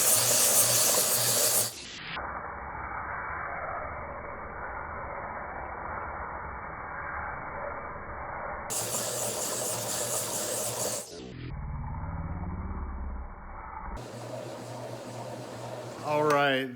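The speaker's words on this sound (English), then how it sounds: "here we got this quartzite ready to go and put in the polisher for" A sphere polisher grinds a rose quartzite sphere with a steady, close rasping hiss. The run is interrupted by abrupt cuts and shifts in tone, and short bursts of brighter grinding noise break in.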